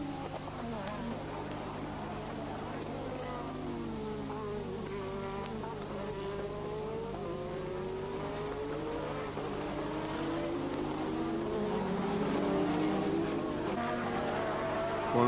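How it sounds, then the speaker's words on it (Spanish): Formula 1 racing cars of the 1986 season scream past at full power, high-pitched engines rising and falling in overlapping sweeps, fairly distant and continuous under a steady broadcast hum. "Con los dos motores en pleno rendimiento"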